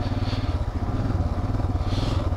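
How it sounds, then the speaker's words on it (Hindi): A motorcycle engine idles roughly in cold, snowy mountain weather at Sela Pass, putting out a loud, close, steady but uneven chugging rumble that runs throughout. "बाइक को ठंड लग गई है, स्लो रनिंग में बैठ नहीं रहा है, देख रहे हो।"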